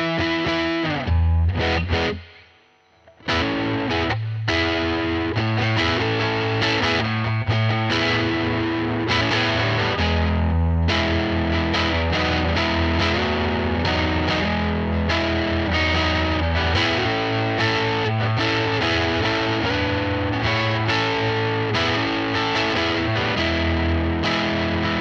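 A bass guitar runs through an overdrive/distortion pedal, playing a loud, continuous, gritty riff with sustained fuzzy notes and a short pause near the start.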